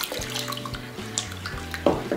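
Warm water is poured into a bowl already holding sugar, warm milk and two eggs while mixing Easter braided bread dough; a short, soft splash sounds close by over a steady tonal background.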